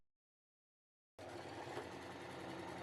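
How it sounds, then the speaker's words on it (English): After a second of silence, a sewing machine stitching the corners of a fabric basket lining starts up and runs in a steady, close, rapid whir. "I then sewed the corners of the lining using the same method as before."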